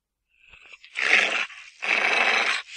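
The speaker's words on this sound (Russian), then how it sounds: "Собака умеет рычать." Two drawn-out rough growls from a dog, each about a second long and separated by a short pause, loud and close with no talk over them.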